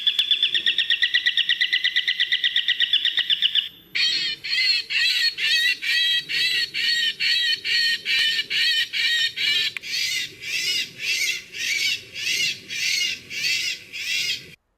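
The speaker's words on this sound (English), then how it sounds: "Look at this next video clip of the hunting calls of falcons and hawks being played, as well as the distress calls of birds" Recorded falcon and hawk hunting calls and bird distress calls played back for bird control: a rapid rattling screech gives way to a series of loud, harsh, repeated squawking cries in regular bursts, close and without speech.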